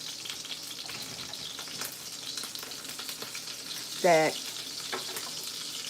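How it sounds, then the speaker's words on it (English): Steady sizzling of food frying in a pan, with crackling pops throughout and a brief voice cutting in near the end. "I know y'all hear my food popping."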